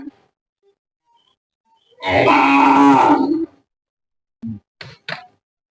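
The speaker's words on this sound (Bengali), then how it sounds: "এগুলো হলো কাকুর গরু।" Cattle at a family farmstead in rural Bangladesh, among them a cow that has recently calved, give one long, loud, close moo lasting over a second, followed after a pause by a few short, lower grunting calls.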